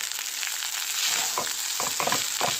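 Onion and garlic frying in butter in a pan, with a steady close sizzle throughout and several scraping stirs of a utensil in the second half.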